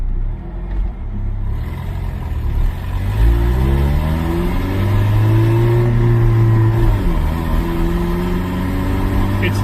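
A vehicle engine on a road test after fresh fuel, with a suspected power loss, hums low then climbs steadily in pitch as it accelerates through gears, loud and close inside the cab.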